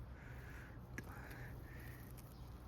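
Faint caws from a crow-like bird carry from a short distance over steady outdoor background noise beside home-grown tomato plants, with about three separate calls spread across a few seconds.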